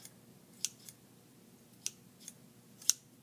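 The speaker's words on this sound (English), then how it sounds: "you're going to just come up and just cut off each of the threads" Scissors snip serger threads in a few sharp, faint clicks, about four or five spaced cuts, close up against near silence.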